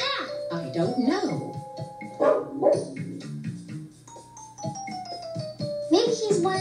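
A dog barks a few times in a cartoon scene, short yips set among children's and adults' speaking voices and light background music.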